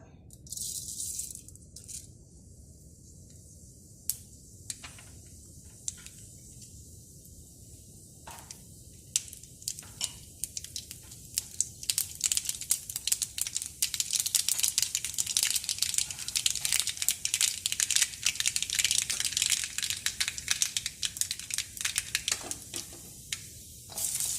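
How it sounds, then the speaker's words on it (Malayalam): Mustard seeds splutter in hot coconut oil for a Kerala-style taro curry. Sparse pops at first build into dense, continuous crackling and sizzling, close and with no talking. "വെളിച്ചെണ്ണ നന്നായിട്ട് ചൂടായി കഴിയുമ്പോൾ കടുക് ഇട്ട് കൊടുക്കുക."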